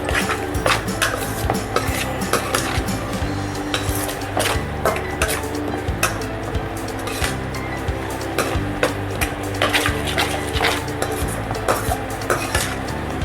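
A spatula stirs coriander and cumin powder in a pan for jeera aloo, making quick repeated scraping clicks against the metal over a low, steady sizzle, with no voices.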